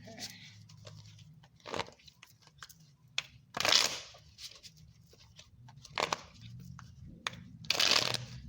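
Tarot cards are shuffled in several quick, crisp riffling bursts separated by pauses, close and fairly quiet, with faint low background hum.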